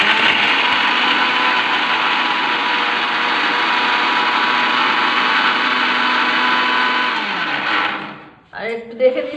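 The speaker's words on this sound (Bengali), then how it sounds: "আমি মিক্সিতে এই বিস্কুটগুলো গুঁড়ো করে নেবো" An electric mixer grinder whirs loudly and steadily as it crushes biscuits into powder, a constant high motor drone that runs for several seconds and then cuts off abruptly, leaving some brief clatter and faint sounds.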